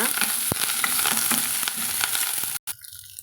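Curry leaves sauté in a pan for fenugreek kuzhambu, a loud continuous sizzle with stirring scrapes that cuts out abruptly near the end.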